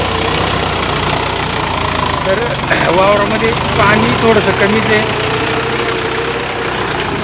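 A tractor engine runs steadily nearby with a throbbing, knocking drone as it puddles a flooded rice paddy for transplanting, while someone talks over it.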